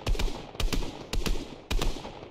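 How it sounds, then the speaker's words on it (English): Four evenly spaced bursts of gunfire in the video game Fortnite, fired at trees, each a sharp crack with a short rattling tail, loud and close with brief gaps between. "I'm gonna shoot down these trees, I think."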